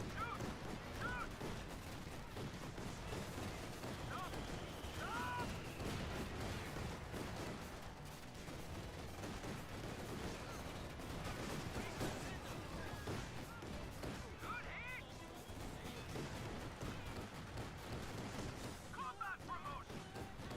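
Gunfire rattles through a war video game, dense and continuous with bursts of shots and booms layered over a busy battle bed, moderately loud and sustained throughout with occasional voices mixed in.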